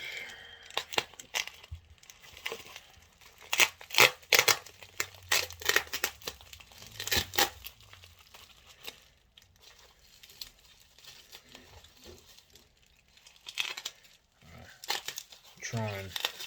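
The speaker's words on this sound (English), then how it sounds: "Gonna have to do a bit of an unwrap." Secondhand model railway locomotive being unwrapped from plastic packaging, with bursts of crinkling and tearing scattered through the stretch, some loud and close, alongside a person talking at intervals.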